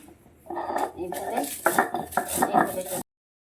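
A stone grinding slab (pata) rattles and knocks as spices are crushed by hand on it, in a few seconds of busy clattering, scraping strokes that stop abruptly.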